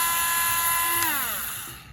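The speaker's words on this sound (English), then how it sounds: "So this drill is a little bit different than a handheld drill because that you have control over the speed" An electric drill twisting wire for a bracelet whines at a steady high pitch, then its tone slides downward as it winds down and stops.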